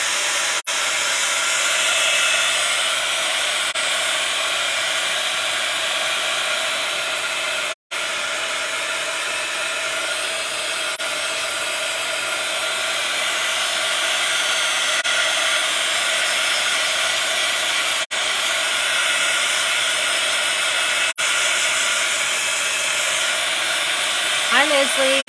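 A hair dryer blows steadily on a wet art journal page, a loud continuous whooshing hiss that runs almost unbroken with only a brief cut-out.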